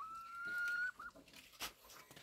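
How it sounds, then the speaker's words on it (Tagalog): A rooster in a rural yard gives a brief, faint crow-like call, followed by scattered clucks and soft farmyard noises, with no talk over it. "Sir, ang tandang ito yung sa akin."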